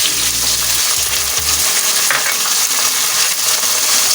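Ginger-garlic paste fries in hot oil for mash dal, a loud, dense, continuous sizzle close up, with brief low clunks at the start and no talking.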